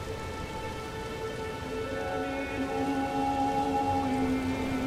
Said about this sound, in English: The never-ending rain and overcast sky creates a gloomy yet